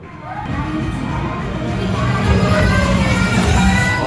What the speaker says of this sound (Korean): 자, 큰 박수로 카이 크르를 모셔보겠습니다.